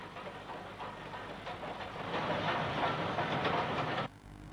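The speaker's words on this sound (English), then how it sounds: "Our final view of the Midland Great Northern is of a train from Peterborough North arriving at the" A train from Peterborough North pulls into a station on the Midland Great Northern line, a rolling rumble with rhythmic rail clatter that builds and then cuts off abruptly, with no voices.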